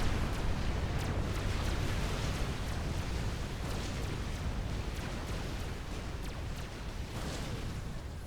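Mobile T3 artillery pounds away in Supreme Commander, a dense continuous rumble of overlapping blasts and booms with sharp cracks scattered throughout, steady and heavy with no talk.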